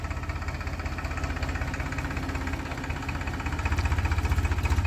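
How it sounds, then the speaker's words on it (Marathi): A farm tractor's diesel engine chugs at a steady idle while cow dung manure is loaded, a close, throbbing rumble that grows slightly louder toward the end. "शेणखत भरण्यासाठी हा ट्रॅक्टर भरतो आणि परत ट्रॉलीत टाकतो"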